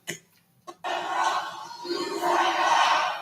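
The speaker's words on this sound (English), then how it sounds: "You hear the refrain from the crowd. You tapped out." An arena crowd at an AEW Dynamite wrestling match chants "You tapped out" loudly, the massed voices swelling after a brief quiet moment.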